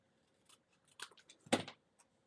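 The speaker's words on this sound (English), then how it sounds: "I'm going to cut it down, trim it down just a little bit more" Scissors snip paper for a home decor craft: a few quiet, close cuts, with a denser flurry of snips in the middle and one faint last snip.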